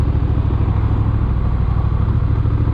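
A Honda CMX 1100 Rebel with dual clutch automatic transmission hums along while riding. Its engine gives a steady, loud, low rumble with an even pulse and no voices.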